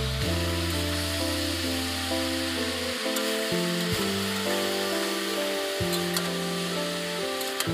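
Fenugreek greens and mixed vegetables fry in a pan, giving a steady, continuous hiss that sits beneath louder background music throughout.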